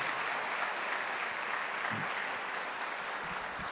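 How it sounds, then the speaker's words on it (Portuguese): Congregation applauding in a church, a dense, even wash of many hands clapping, fairly faint and distant, sustained without pause. "uma bonita salva de palmas"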